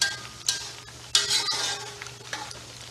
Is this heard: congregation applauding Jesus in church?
no